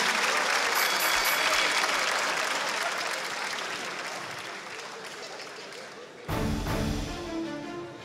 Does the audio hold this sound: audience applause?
yes